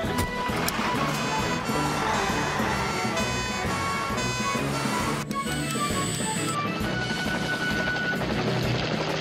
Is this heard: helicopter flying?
yes